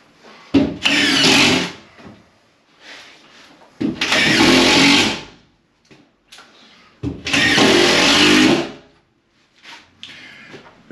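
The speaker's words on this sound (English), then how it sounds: "It's a DeWalt. It's a drywall tool. You put the bit in there and just run it." DeWalt drywall screw gun running in short bursts, three loud whirring runs of about a second and a half each with quiet gaps and faint clicks between them, close by.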